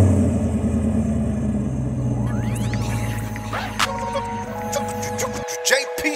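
A 2018 Dodge Charger 392 Scat Pack engine cold start: a loud, deep rumbling idle with a rising rev sweep midway, steady and close, ending abruptly with a sharp cut.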